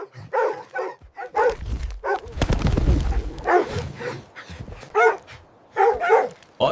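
Several dogs bark in loud, irregular bursts while attacking a lioness in an animated story, with a dense scuffle of noise building in the middle.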